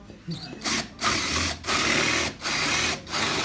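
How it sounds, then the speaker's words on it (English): Power drill running in bursts as the bit keeps catching in the workpiece, the clutch not set right, four roughly even whirring stretches separated by brief stops, fairly close, with a voice speaking lightly underneath. "Can you see that the drill's just getting caught in it?"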